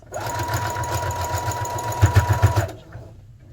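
A sewing machine runs steadily as it backstitches to lock a seam on trim for a Girl Scout community service project, with a quick burst of heavier stitching near the end before it stops cleanly.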